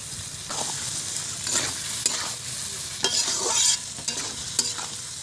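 Onions frying with 3 kilos of meat and salt in a pot for chicken kosha, a constant hissing sizzle broken by repeated scraping stirs of a spatula, close and fairly loud.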